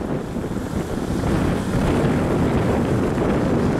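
Sea waves slam against an overloaded barge out at sea in strong wind, a loud continuous roar of surf and gusting wind buffeting the microphone, growing heavier midway and holding steady.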